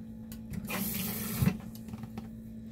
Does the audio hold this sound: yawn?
no